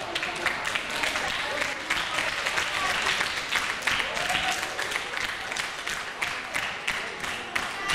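Audience applause at a school last-bell ceremony for a ninth-grade class, a steady dense wash of many hands clapping that holds evenly from start to finish with no voices over it.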